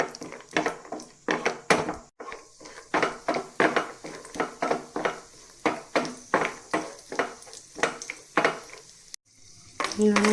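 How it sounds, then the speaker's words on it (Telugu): Almonds and cashews fry in ghee in a pan for carrot halwa, stirred with a utensil: rapid repeated scraping and clattering strokes in a steady rhythm over a light sizzle, close and fairly loud, pausing briefly twice. "2 స్పూన్లు నెయ్యి వేసుకొని బాదం పప్పులు, జీడిపప్పులు వేసుకుని వేయించుకుందాము"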